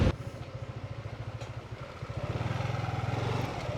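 Small 150cc scooter engine running steadily while riding, a close, loud pulsing putter that briefly eases around the middle then picks back up and holds a slightly stronger, even drone.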